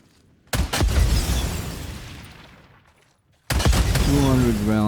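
A shotgun fired at a zombie horde in Days Gone lets out two loud, close blasts, the first decaying over about three seconds before the second, with a voice speaking over the end.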